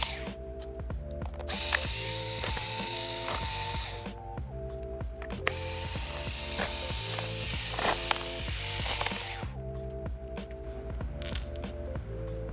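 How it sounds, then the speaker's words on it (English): A small powered screwdriver whirs in repeated bursts while removing screws from the bottom cover of an HP Chromebook 14 G7 laptop, with short pauses and faint clicks between runs. "take all the screws out of the bottom cover"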